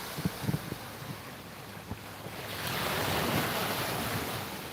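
Ocean waves breaking on a Pacific shore at sunrise, a soft hiss of surf that swells gradually, with a few faint bumps and wind noise early on.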